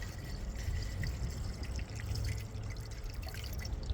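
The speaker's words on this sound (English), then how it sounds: "you can just top up your coolant" Coolant pours steadily into the coolant reservoir of a Mercedes S550, a continuous close liquid rush and trickle lasting throughout with no voices.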